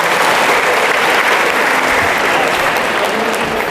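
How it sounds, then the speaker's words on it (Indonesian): Loud, continuous applause from an audience at a student character-building webinar event, a dense wash of clapping that holds steady from start to finish. "Tepuk tangan buat mereka semua yang hebat-hebat."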